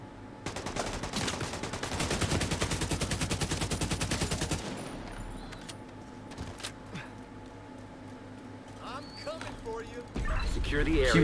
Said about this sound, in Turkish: Çatışma sesleri geliyor. Silah sesleri geliyor yavaştan.